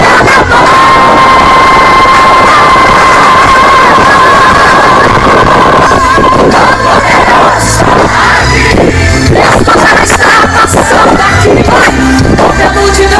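A large crowd cheers and roars loudly and continuously at a church worship crusade, a dense wall of voices with a sustained musical tone beneath.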